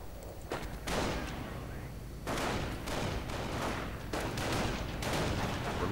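Rifle gunfire in a WWII strategy game: bursts of shots and thuds come in clustered volleys, mid-distance and fairly loud, over a busy battle din with a voice talking underneath.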